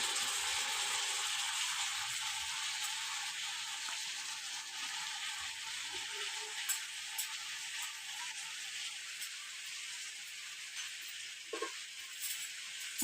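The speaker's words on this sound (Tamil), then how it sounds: "இந்த மசாலா கூட நல்லா ஃப்ரை ஆகணும். இது நல்லா இப்போ டமாட்டோ நல்லா வதங்கி இருக்குது." Masala and tomatoes fry in a pan with a steady, soft sizzle, broken by a few faint clicks and light scrapes of stirring, with no talk.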